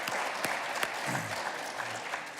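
A studio audience at a morning live show applauds steadily, a dense patter of many hands clapping at even volume throughout with no voices on top.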